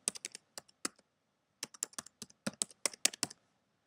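Keys tapped on a computer keyboard while blog tags are entered into an article editor, coming in quick irregular bursts of crisp clicks with a short pause midway, close and fairly quiet, with no voices.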